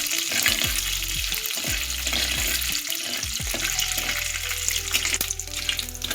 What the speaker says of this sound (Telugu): సో బాగా కొంచెం ఎర్రగా దోరగా మినపప్పు వేగేదాకా కలుపుకోవాలి